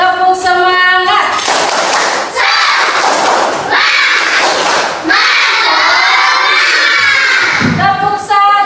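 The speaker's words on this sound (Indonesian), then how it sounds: "kita tepuk semangat yuk. Tepuk semangat." Third-grade schoolchildren in a classroom clap and shout together in a loud, continuous burst of cheering, with rhythmic claps and excited young voices throughout.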